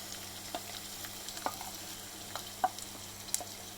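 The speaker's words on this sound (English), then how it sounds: "Sauteed really well till it is goldenish brown." Onions and green chili sautéing in sunflower oil, a soft low sizzle under scattered light clicks and taps of stirring, quiet and close with no voices.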